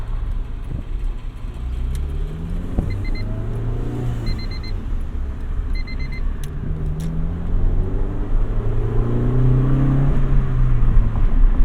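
A 1991 Honda Civic Si EF hatchback without VTEC drives along a road, its engine droning and rising in pitch through the gears under steady road rumble. Faint chimes sound briefly near the start.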